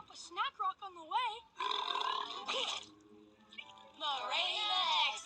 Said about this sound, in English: I could burp you up a snack rock on the way.